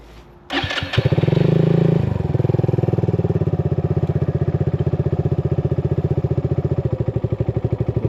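A motorcycle engine is kicked and started after a few clattering attempts, catches with a burst, then settles into a steady, close, loud idle with an even thumping rhythm.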